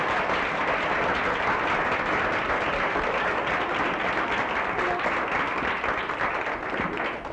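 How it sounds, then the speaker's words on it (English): Dense, even clapping from an audience at a 1981 Science Bowl match between Hancock and Burnside, continuous and fairly loud throughout, tapering slightly at the very end. "Let's give them a round of applause"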